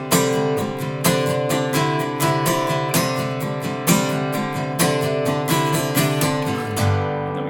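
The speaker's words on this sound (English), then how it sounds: "So that 2nd phrase sounds like this if we just start up here real slow." An acoustic guitar plays the second phrase of Amazing Grace slowly, a steady run of picked notes and strummed chords that rings near and clear, then fades at the end; no talking.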